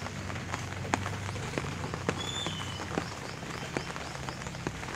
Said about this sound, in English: The rain doesn't stop yet from the morning until midday.